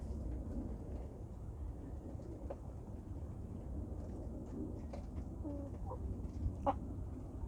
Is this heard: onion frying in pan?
no